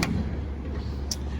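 A panel on a 1966 Triumph TR4A clicks shut once, a single crisp latch snap late in the moment over a steady low engine-like rumble.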